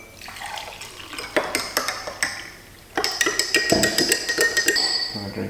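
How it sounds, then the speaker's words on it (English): Water runs into a glass holding a tablespoon of apple cider vinegar with turmeric, with clinks of glass and cutlery between bursts of pouring, steadier and louder in the second half. "fill the glass up."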